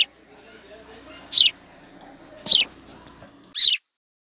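A house sparrow gives three short, bright chirps, spaced about a second apart, close and clear against a quiet background.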